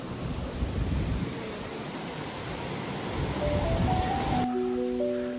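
Yunlong Waterfalls on the Batongguan trail rush with a steady, broad roar of falling water, continuous and fairly close, fading slightly as a faint tone enters near the end.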